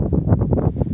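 A brief, rough gust of mountain wind at about 6,000 feet on Roan Mountain buffets the microphone with a low, rumbling roar.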